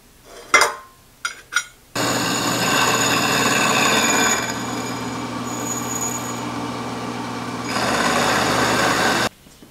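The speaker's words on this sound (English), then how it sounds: "I'm going to have to grind out this area in here or mill it out." A few sharp metallic clicks, then a steady, whining power-tool grind on a metal rod-bending jig for an arbor press. The tone shifts partway through and it stops abruptly near the end.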